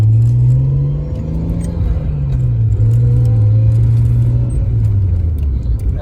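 A Nissan R32 Skyline fitted with an ISR cat-back exhaust drives along with a loud, deep droning exhaust tone that swells and dips slightly as it moves, heard from close by.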